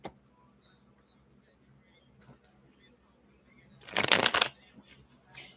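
Tarot cards shuffled by hand in a brief riffling burst after a quiet pause, close and fairly loud, with faint voice nearby.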